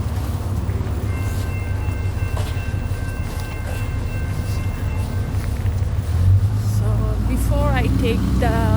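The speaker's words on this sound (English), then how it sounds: "I will take the C train from the City Hall." A Calgary C-Train light rail train rumbles steadily nearby, its low roar swelling louder toward the end, with some wavering squeals or faint voices over the noise.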